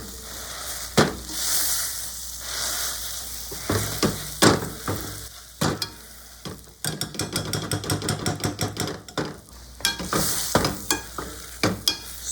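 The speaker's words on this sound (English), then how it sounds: "Time to smash the beans." Pinto beans being smashed in a hot pan, a sizzling bed under repeated thuds and knocks that quicken into a fast, irregular run of mashing taps midway.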